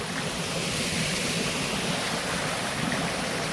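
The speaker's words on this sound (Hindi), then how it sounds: "पानी बह रहा आजकल" A small mountain stream (gadhera) runs right beside a hillside farm field, a steady close rushing and gurgling of flowing water that fills the whole stretch without pause.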